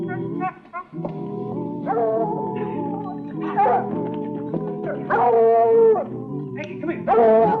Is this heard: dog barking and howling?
yes